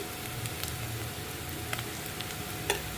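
Ginger garlic paste sizzles steadily in a hot pan for a brinjal tomato curry, a close, even frying hiss with a couple of faint stirring clicks and no voices.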